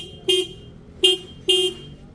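Three sharp, loud blasts from a Denso car horn in quick succession, each brief and bright with a short gap between, over quiet background.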